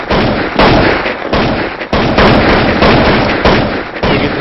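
Loud gunfire in the video game Counter-Strike, several sharp shots and bursts fired in quick succession with dense echoing noise that fills the clip.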